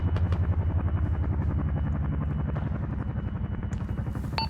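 A helicopter in a military squad video game thunders steadily with rapid rotor chopping and a loud engine drone, close and continuous throughout, with no speech.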